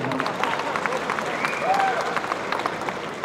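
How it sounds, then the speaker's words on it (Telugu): An audience at Dil Raju Dreams' production website launch, where the music director is speaking, breaks into loud sustained clapping with cheers and a rising whistle or whoop threading through the crowd noise. "వాళ్ళందరి కోసం మళ్ళీ ఒకసారి క్లాప్స్ కొట్టండి."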